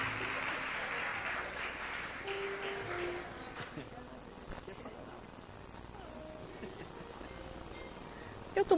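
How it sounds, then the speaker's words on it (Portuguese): Church congregation applauding during a Mother's Day service, broad clapping for the first few seconds that fades into quieter room noise. "Vamos aplaudir o Senhor."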